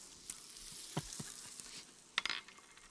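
Onion and fennel frying in a pan, a soft steady sizzle with scattered crackles and a few sharper pops and stirring clinks, quiet and close, no voices.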